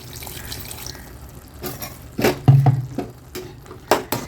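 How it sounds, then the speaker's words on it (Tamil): Water poured into a hot pan of cooking mushroom gravy, with a few short splashy bursts and a sizzle over a low background hum, close by. "கொஞ்சமாக தண்ணி சேர்க்குறேன்"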